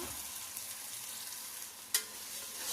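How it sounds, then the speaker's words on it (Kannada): Ground masala for egg biryani frying in hot oil over high flame, a steady bright crackling sizzle throughout, close and even, with one brief sharp spatter or utensil tap near the end. "ಇದನ್ನು ನಾವು ಚೆನ್ನಾಗಿ ಐ ಫ್ಲೇಮಲ್ಲಿ ಫ್ರೈ ಮಾಡ್ಕೋಬೇಕು."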